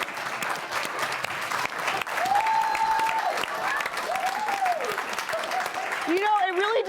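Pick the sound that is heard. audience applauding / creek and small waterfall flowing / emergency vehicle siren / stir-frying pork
audience applauding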